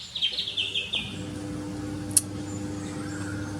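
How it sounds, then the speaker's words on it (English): Birds chirp in an Australian backyard, a quick burst of bright repeated tweets at the start followed by a single sharp call, over a low steady mechanical hum. "There's birds everywhere chirping."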